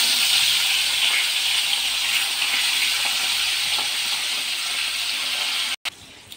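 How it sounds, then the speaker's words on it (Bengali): Mrigal fish frying in hot oil gives a steady, bright sizzling hiss, close and fairly loud, holding constant before a brief cut near the end. "তো দেখুন আমার মাছ ভাজা হয়ে গেছে,"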